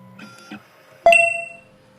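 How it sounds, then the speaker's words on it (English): A 2M2 Tank 2 Pro key cutting machine decoding the lateral side of a car key gives a couple of soft mechanical clicks and then a single sharp beep that rings and fades, with no talking. "The machine is decoding the lateral side."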